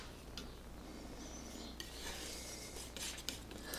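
A palette knife scrapes and rubs as it mixes white and ultramarine blue paint, quiet repeated strokes with light clicks of the blade against the palette.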